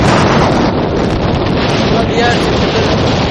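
Heavy, continuous wind buffets the microphone, a loud roaring rumble that never lets up.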